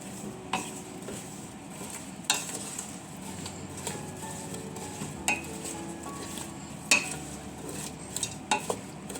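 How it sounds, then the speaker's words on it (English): Apples cooking in a pot over medium-low heat are stirred with a utensil, soft scraping and faint sizzle underneath, punctuated by several sharp clinks of the spoon against the pot rim at irregular intervals. "I'm just going to stir everything in."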